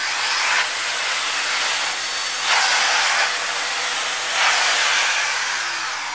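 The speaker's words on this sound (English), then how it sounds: "use it as a hand vacuum for doing your steps" A Miele S1 Quickstep vacuum used as a hand vacuum runs with a steady loud airy whine and hiss, with a few brief surges in airflow, and no talking.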